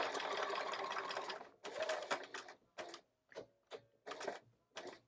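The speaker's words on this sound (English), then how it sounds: "And then we're sewing right to here, so it will meet this line of red stitches." Sewing machine stitching a foundation paper pieced quilt block, running in a long close burst and then in several short runs with brief pauses between them.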